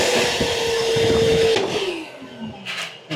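A vacuum cleaner runs steadily and close up after drilling holes in a Toyota Tacoma, with a constant whine and motor drone that changes pitch about halfway through before fading near the end.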